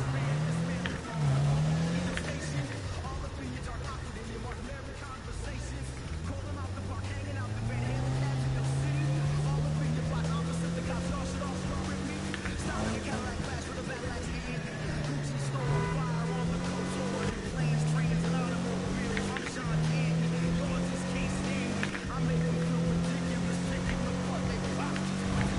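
A modded car with a wide body kit and glass-pipe exhaust drives in a Need for Speed game, its engine droning and rising through gears steadily throughout, with someone talking over it.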